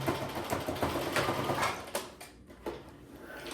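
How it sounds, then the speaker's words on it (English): A sewing machine stitches fabric in a steady, rapid mechanical whir with a few brief pauses and changes in speed, close and alone. "I'm just going to sew it up."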